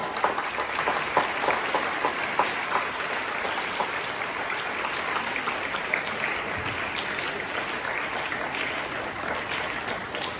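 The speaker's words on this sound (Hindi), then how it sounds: "फिर तालियों का जोश कम हो गया" Audience applause at a school Independence Day celebration, a dense, steady wash of many hands clapping that fills the whole stretch at close range without letting up.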